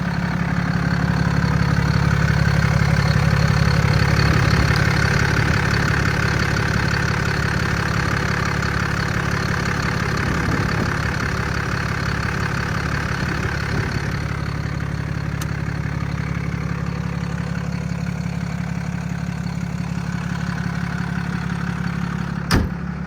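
A 2024 Ram 5500 service truck's Cummins diesel engine idles with a steady, close, low rumble that runs unbroken throughout, with no talk over it.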